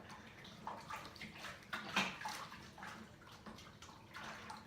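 Dextrose being stirred into water inside a plastic home-brewing fermenter for a beer kit; soft sloshing and swirling in uneven pulses, quiet and close, with no talking.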